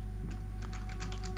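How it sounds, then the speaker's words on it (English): Typing on a computer keyboard, faint and close, with a run of quick irregular key clicks over a steady low hum of background noise. "What are you typing? Who? Are you typing?"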